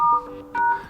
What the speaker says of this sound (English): Let's use the phone's dialer and let's use the secret code.